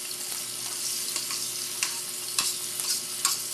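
Ginger and onion sautéing in a pan for papaitan, a constant bright sizzle with occasional sharp scrapes and clicks of a utensil stirring.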